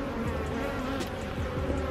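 Honeybees buzz densely around an open hive frame being collected with nectar, a steady, loud, continuous drone close by with no talking.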